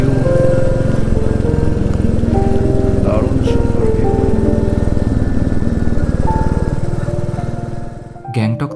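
Motorbikes set off from Gangtok toward Lachen via Chungthang in moderate rain, a loud close engine droning steadily and evenly before easing off near the end.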